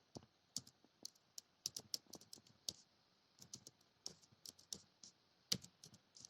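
Typing on a computer keyboard during a Python coding lesson, quick irregular bursts of close, crisp key clicks with short pauses, quiet and alone without talk.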